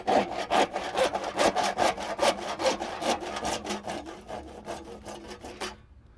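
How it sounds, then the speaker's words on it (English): A handsaw finishes a cut through a vinyl fence post in quick, even back-and-forth rasping strokes, about two dozen close, loud strokes that stop abruptly near the end. "We're going to finish that off with a handsaw."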